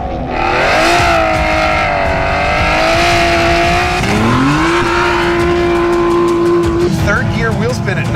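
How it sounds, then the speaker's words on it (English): An Aston Martin V12 Vantage S spins its wheels at high speed, the V12 howling high and steady with a shift and a rise in pitch, tires squealing near the end, and someone talking over it. "Third gear wheel spin at 90 miles an hour, rev limiter"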